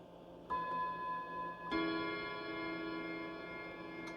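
A mid-century modern mantel clock strikes the half hour with two ringing chime tones, a second after the first, each leaving a long sustained metallic decay in a quiet room.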